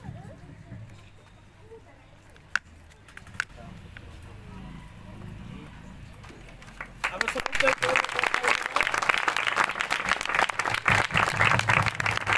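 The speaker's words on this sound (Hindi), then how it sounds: "कैंडल जलाइबा समय समस्ते करताली देबा" A church congregation breaks into loud sustained clapping during candle lighting, after a quieter stretch with a few isolated knocks and soft murmuring voices.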